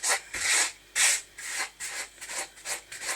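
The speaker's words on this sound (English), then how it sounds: "I'm just using my spatula and pushing it against the bottom of the bowl." A spatula presses and rubs lumpy chocolate mint bath bomb mixture against the bottom of a bowl, making repeated close, gritty scraping strokes in an uneven rhythm, about eight pushes in a few seconds.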